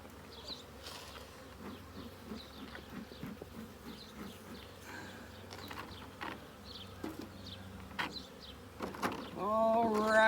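Honeybees buzzing steadily around an open hive during an inspection, a close, continuous drone with a few brief knocks and shuffles and a louder rise toward the end.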